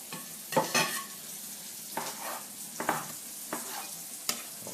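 Pork trimmings fry in a saucepan, a steady sizzle broken by repeated scraping stirs every second or so, close and moderately loud with no talking.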